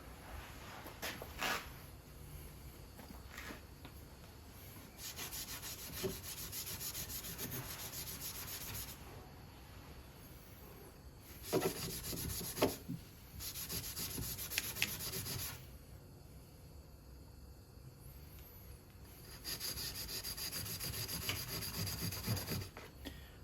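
Abrasive rubbed back and forth on a KTM 300 carburetor part to flatten it, faint steady scraping strokes in repeated bursts that continue throughout, close up and alone.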